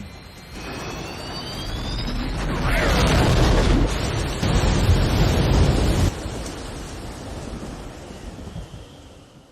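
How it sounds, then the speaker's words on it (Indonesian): A long, roaring blast swells into a thick rumble with crackling noise, like an aircraft blowing apart, then fades into a steady low wash. "Sebelum akhirnya pesawat benar-benar meledak dan hancur berkeping-keping."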